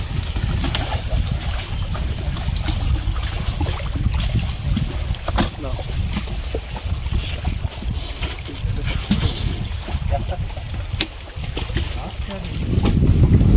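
A boat pushes through water in the Sundarbans forest during high spring tide, with a constant wash and strong wind buffeting the microphone, while voices talk intermittently over the noise.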